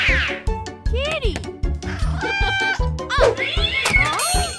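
Cartoon cat meowing several times in a quick, high, sliding series, with lively animated voices and background music playing underneath.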